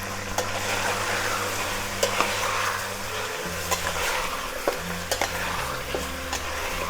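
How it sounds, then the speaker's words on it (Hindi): Chicken being stirred with salt in a hot pan while making lemon pepper chicken, with a steady frying sizzle and scraping stirs, plus a few sharp utensil clicks against the pan, close and continuous. "सॉल्ट डाल के हम इसको थोड़ा सा मिक्स करेंगे।"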